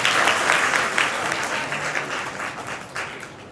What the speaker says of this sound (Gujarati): વાહ ભાઈ વાહ, જોરદાર તાળીઓ થઈ જાય.